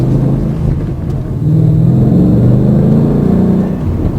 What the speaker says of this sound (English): Startup, real nice and mellow, a little bit of exhaust presence, but nothing really obnoxious or in your face.